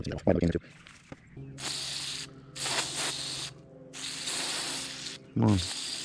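Cleaner sprayed in several long hissing bursts onto the MAP sensor of a 2017 Chevy Silverado 6.6L diesel truck, close up, with short gaps between sprays and a little mechanical clicking.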